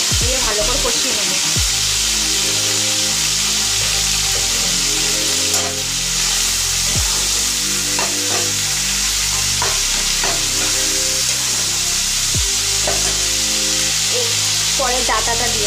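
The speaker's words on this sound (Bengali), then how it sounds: "পরিমাণ মতো নুন দিয়ে ভালো করে কষিয়ে নেব।" Tilapia curry being stir-fried with salt in a pan: continuous sizzling hiss and occasional scraping stirs beneath a loud, droning tonal background sound.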